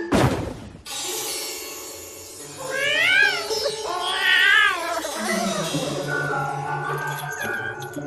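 A cartoon cat meows and yowls in several drawn-out, wavering cries after a sharp opening thump, close and loud.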